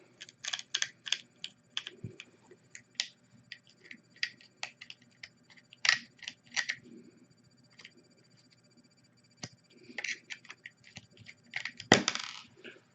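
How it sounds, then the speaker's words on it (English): Small screw being backed out of a PS4 external hard drive enclosure with aluminum tape on the front, heard as a scatter of sharp, close clicks and metallic ticks in quick irregular bursts, with louder rattles near the end. "So we're going to take the screw out."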